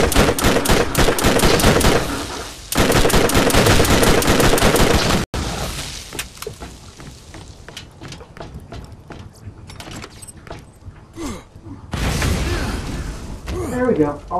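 Rapid automatic gunfire from the Borderlands video game rattles loud and dense in long bursts, with further scattered shots and booms, and a voice talks over parts of it.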